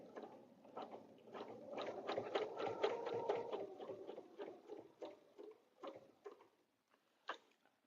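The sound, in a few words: sewing machine quilting a table runner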